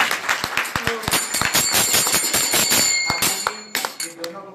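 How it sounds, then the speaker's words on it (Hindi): Enthusiastic clapping at a devotional kirtan gathering held in a family's home: many hands clapping in quick uneven bursts, loud and close, thinning out toward the end, with voices mixed in. "अब इनके लिए जोरदार ताली बजा"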